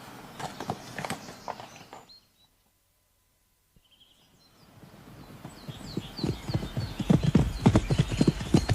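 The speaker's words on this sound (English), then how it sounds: "Fetch me the quietest horse." A horse walks with steady clip-clopping hooves, then falls silent briefly. The hoofbeats return and grow louder and nearer, with faint bird calls in the background.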